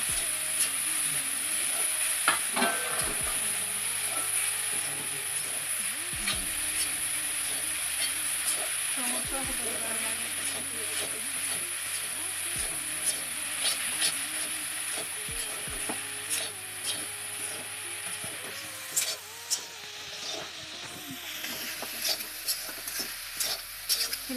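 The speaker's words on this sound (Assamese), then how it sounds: "লাৰি 10 মিনিটমান ভাজি থকাৰ পিছত এইখিনি চাব লাগিব হাততে হৈছেনে নাই" A coconut laru mixture is stirred and fried in a hot wok, giving a steady close sizzle with repeated scraping strokes of a ladle against the pan.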